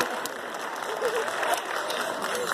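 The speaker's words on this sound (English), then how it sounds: "Nice round of applause for our helpers." A live audience gives a round of applause for stage helpers, continuous clapping from a crowd at moderate loudness, with a voice briefly audible over it.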